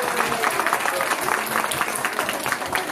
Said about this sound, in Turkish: Büyük alkış istiyorum ama.